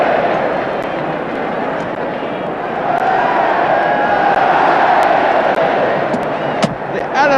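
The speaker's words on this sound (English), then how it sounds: "The Ellen Road crowd are lapping it up." A large football crowd roars and cheers at Elland Road during a Leeds United home match, a loud sustained wash of noise that swells slightly midway.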